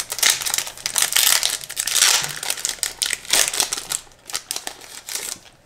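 Pokémon Celebrations booster packs being torn open, the foil wrappers crinkling and crackling loudly in repeated bursts close up, with brief pauses between handlings.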